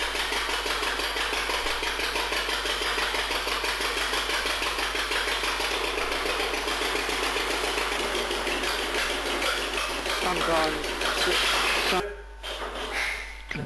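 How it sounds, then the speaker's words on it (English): An old Fordson tractor engine runs steadily after starting, a dense, continuous mechanical clatter with a fast rhythmic beat close by, then cuts off abruptly near the end. "we're just starting that up, and the Fordson tractor. And there it is, it's going."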